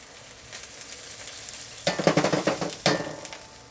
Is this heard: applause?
no